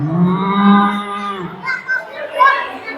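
A cow gives a single drawn-out moo, then children's voices chatter and play in the background.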